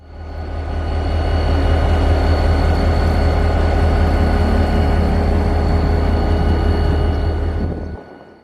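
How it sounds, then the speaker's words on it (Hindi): A GMU 30 diesel locomotive idles on a siding loop line at a station in Pakistan, a loud, close, steady low rumble with a constant mechanical hum that holds evenly before cutting off near the end. "एक GMU 30 लोकोमोटिव को देखा, जो कि साइडिंग लूप लाइन पर खड़ा था, और उसकी आइडल साउंड सुनने का बहुत मजा आया"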